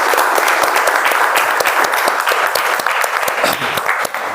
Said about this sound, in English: he definitely deserves a better round of applause